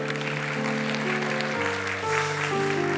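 A Sunday worship congregation claps to welcome newly registered church members. The applause is a soft, even patter under sustained held keyboard or organ tones that shift pitch partway through.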